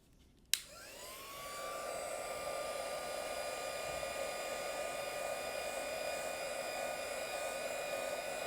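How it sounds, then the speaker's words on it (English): Hair dryer switched on with a click and then blowing steadily and loudly, a constant whine with no talking, used to push alcohol ink across a drawing surface. "And maybe do a little bit of blowing with this dryer and see what it does."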